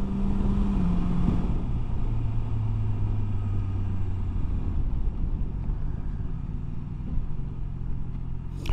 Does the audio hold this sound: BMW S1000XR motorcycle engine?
yes